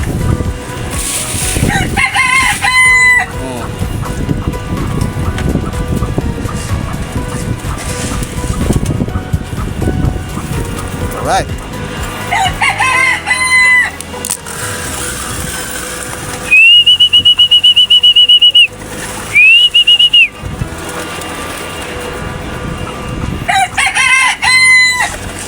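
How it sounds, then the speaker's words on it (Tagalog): Roosters crow repeatedly among clucking chickens, with a long shrill whistle-like tone cutting in twice partway through, all close and loud. "Ito yung manok natin, nakabang na oh."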